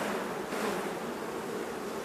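Dense, steady hum of honeybees swarming around an open hive frame during beekeeping work, holding at an even level throughout without breaks or voices.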